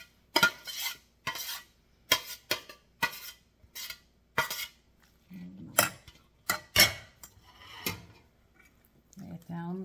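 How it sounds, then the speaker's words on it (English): A utensil scrapes and clinks against the sides of a dish of homemade macaroni and cheese, about a dozen short sharp scrapes in an uneven rhythm, close and fairly quiet, with a little talking near the end. "Scraping the sides of this."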